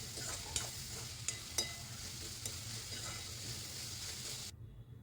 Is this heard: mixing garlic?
yes